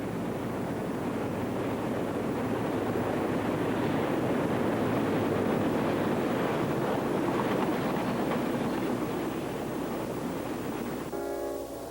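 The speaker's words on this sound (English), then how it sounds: "An SD-40-2 and C-30-7 head north to get by the previously seen train" CSX SD-40-2 and C-30-7 diesel locomotives heading north in a continuous broad rumble and rush, steady and fairly loud throughout.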